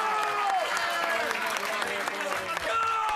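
A poker tournament crowd at a European Poker Tour final in Prague applauds in a dense, steady wash of clapping, with a commentator's voice speaking over it.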